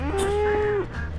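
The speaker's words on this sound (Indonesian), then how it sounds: "Gue disautin sama sapi dong." A cow lowing once in the ranch-building video game Ranch Simulator, a single close, drawn-out moo of under a second over a low background hum.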